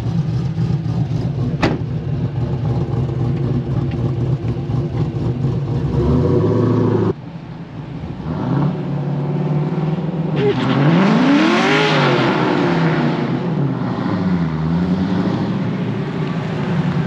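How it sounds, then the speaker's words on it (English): A 2004 Pontiac GTO fitted with a line lock does a burnout, its engine idling loudly before revving hard in rising and falling sweeps with tire roar, heard close and without talk. "going to do burnout"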